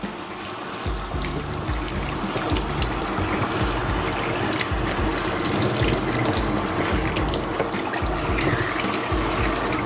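Steady shower spray runs continuously on a Bichon Frise during a bath, a close, even hiss of water with soft splashing and no pauses throughout.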